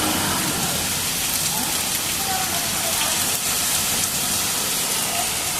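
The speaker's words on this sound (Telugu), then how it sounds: "చూడండి ఎట్ట పడుతుంది వాన ఫుల్ వడగళ్ళ వాన" Dense, steady pattering of a hailstorm in Hyderabad hammering down nearby, a continuous loud wash of impacts with no pauses.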